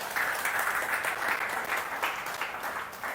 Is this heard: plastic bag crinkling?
no